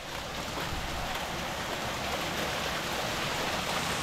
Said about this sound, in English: Whoa, it's hailing.